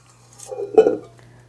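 A single clunk of a pot or dish in a home kitchen while pecan sugar cookies with brown butter are being made, a short, close knock with a brief rattle over a low electrical hum.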